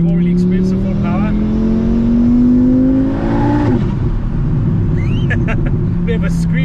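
Modified VW MK6 Golf R with a 2.5L Audi RS3 five-cylinder engine pulling hard on a countryside road, a loud droning rise in pitch that drops on the shift, heard from inside under talk.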